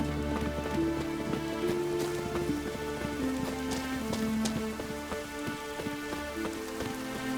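Steady rain patters continuously in The Witcher 3: Wild Hunt, dense and even throughout, with soft sustained tonal ambience underneath and no talking.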